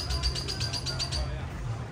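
A bird chirps in a quick run of repeated high notes on Mahogany Bay during a Carnival Mardi Gras cruise stop, close and clear over steady low outdoor rumble, then fades out.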